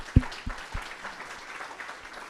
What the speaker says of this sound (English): if we can just give them a round of applause for what they've done thus far